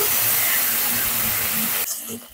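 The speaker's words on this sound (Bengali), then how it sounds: "গাঁটাগুলো ভেজে নিচ্ছি।" Pieces of katla fish fry in hot oil with a steady, dense hiss and sizzle close up, cutting out abruptly near the end.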